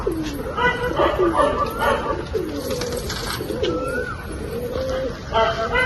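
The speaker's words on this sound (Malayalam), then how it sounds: "രണ്ടുപേരും ഒന്ന് പറപ്പിച്ച് നോക്കാം" Pigeons at a home loft, soft repeated cooing and short calls, close and fairly loud, over someone talking, with a dog-like whimper mixed in.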